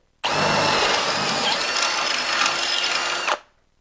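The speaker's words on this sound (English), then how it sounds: "Going to drill it back in the stock hole." A power drill whines at high speed for about three seconds, drilling an 11/64 hole for a rivet nut to mount a snowflap, starting and stopping abruptly, loud and close with a steady grinding tone.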